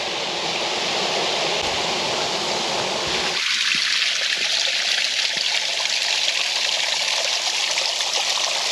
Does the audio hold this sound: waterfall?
yes